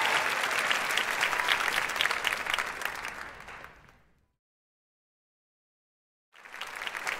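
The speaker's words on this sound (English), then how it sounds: "please give her a hearty round of applause" A theatre audience applauds loudly and steadily after a live song, the dense clapping fading to silence before another burst of applause starts up.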